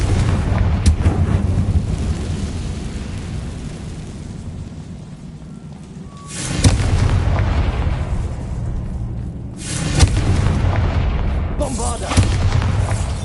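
Confringo fire spells go off in Hogwarts Legacy as a series of booming blasts, two big explosions several seconds apart with rumbling debris and smaller pops between them.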